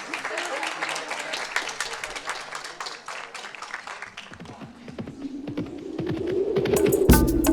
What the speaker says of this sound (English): Thank you very, very much. A nice round of applause.